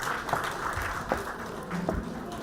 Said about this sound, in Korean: 여러분 뜨거운 박수로 환영해 주시면 감사하겠습니다.